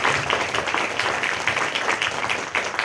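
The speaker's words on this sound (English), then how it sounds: "We also have another round of applause for Jen" Sustained applause from a lecture audience at a public talk, dense overlapping clapping filling the room steadily throughout without a break.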